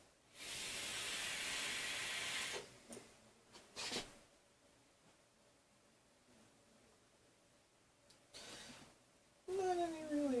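Airflow hiss from an Atlantis V2 vape tank, a close, steady breathy rush for about two seconds, then quieter short draws with the airflow closed down, ending with a brief louder burst and a faint voice.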